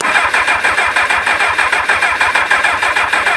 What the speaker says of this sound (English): Let me just see if I keep doing this and giving it fuel, it might actually get enough to try and start.